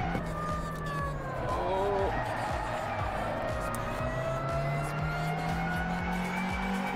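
Tyres squealing steadily on a historic Mini in the racing game Assetto Corsa, a long continuous whine over the droning engine, close and fairly loud, shifting pitch as the car corners.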